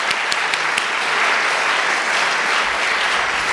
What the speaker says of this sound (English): I think they deserve applause.